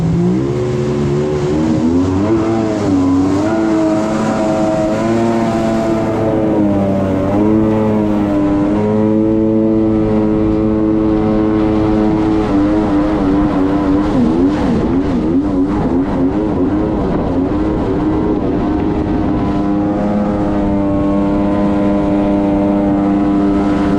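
A rebuilt Sea-Doo XP jet ski accelerates on a lake, its engine whine climbing steadily and holding loud and close for the full stretch, with no talk over it.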